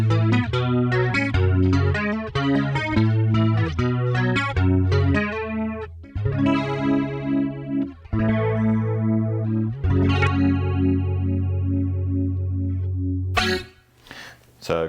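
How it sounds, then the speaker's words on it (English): Clean electric guitar played through an MVave Tank-G preset with a bit of chorus, bright strummed chords and picked notes ringing full and close, ending with a short noisy burst. "So clean sound with a bit of chorus."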